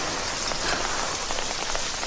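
Steady rain falls on hard surfaces, a dense continuous patter of drops heard close and moderately loud with no voices.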